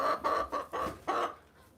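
A Rhode Island Red hen sings her egg song, a run of five loud, clipped clucks in an uneven rhythm, close by and alone, then a short quiet tail.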